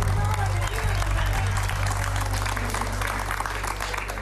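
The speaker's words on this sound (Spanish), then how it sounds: "Yo pido un fuerte aplauso para ella." Television studio audience applauds on a Spanish-language variety show, a loud continuous clapping crowd mixed with chatter and a strong low hum, with voices talking through it.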